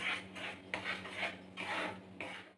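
Spatula scraping and stirring fried spice paste into butter in a wok for an egg butter dish, a series of close rasping strokes in rhythmic bursts over a steady low hum.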